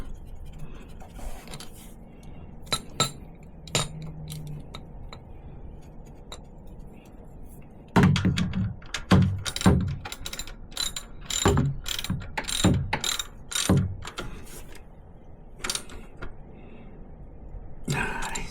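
Oil drain plug being screwed back in and tightened on a Harley-Davidson Fat Bob 114, heard as a series of sharp ratchet clicks in bursts, sparse at first and then rapid and close, with brief pauses between.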